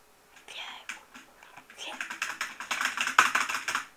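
Rapid clacking on a computer keyboard, irregular bursts of keystrokes that grow denser and louder, with a sharp heavier hit near the end and a soft whispering voice mixed in.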